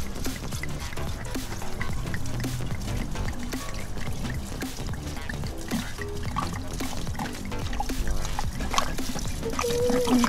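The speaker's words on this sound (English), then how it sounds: "I'm going to add Chardonnay. This is the white wine that we're gonna go with." Chardonnay white wine poured into a sangria drink dispenser, a steady continuous liquid pour with trickling, heard amid busy background noise and clatter.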